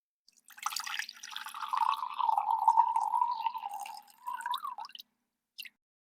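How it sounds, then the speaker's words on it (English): Warm water is poured into a bowl for sourdough bread, a steady trickling stream for about four seconds with a shifting pitch toward the end, then a brief final drip, with no talking. "we're going to add 165 grams of warm water"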